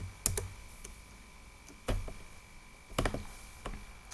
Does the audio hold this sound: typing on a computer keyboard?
yes